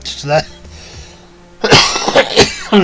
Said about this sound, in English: excuse me, got a terrible cough.